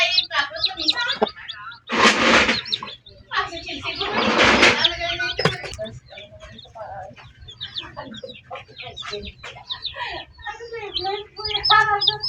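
A mother hen clucks among her newly hatched chicks, with bright peeping and a couple of louder bursts of fowl noise near the mic, while a person talks quietly in between.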